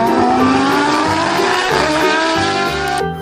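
A toy Formula One race car whirs with a steady, loud motor drone and shifting tones, sustained throughout before cutting off abruptly at the end.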